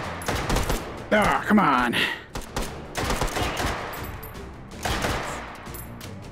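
Rapid gunshots in the VR game Hot Dogs, Horseshoes & Hand Grenades on HTC Vive, loud bursts of gunfire in clusters with someone briefly speaking between them.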